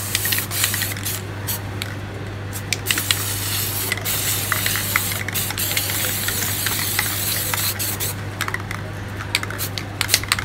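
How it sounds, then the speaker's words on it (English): An aerosol spray paint can hisses in repeated short bursts while blue and purple mountain colours go onto a spray paint art piece, with a steady low hum running underneath throughout. "spray blue"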